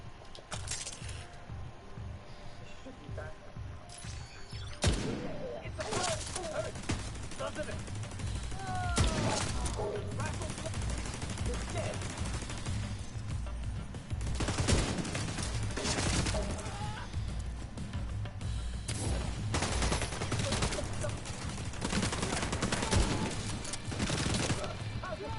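Automated turret fire from The Division 2 rattles off in rapid bursts among other sharp shots and impacts, moderately loud in a busy combat mix with a steady low background drone.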